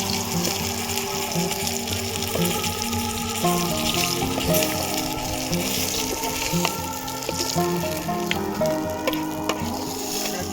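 Fish frying in hot oil, a steady crackling sizzle with faint scraping and clinks of a utensil, continuous and close with no talking.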